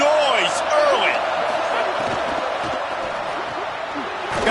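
Stadium crowd at a college football game, UGA against LSU, a broad steady roar that fills the space throughout, with whistles and shouts rising above it and a commentator's voice talking over the noise.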